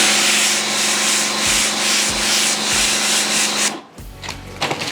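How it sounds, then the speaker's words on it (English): A pressure washer blasts water onto a car wheel, giving a loud, steady, close hiss with faint pulsing. It cuts off abruptly near the end, leaving softer dripping and spatter. "Take my pressure washer"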